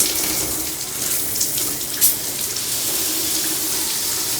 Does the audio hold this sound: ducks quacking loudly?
no